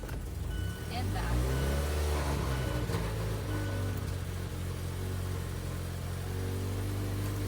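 A 2015 Mazda CX-5 engine with a fault cranks for an extended stretch, then catches and settles into a steady, elevated high idle that drones on, close by, with voices around it.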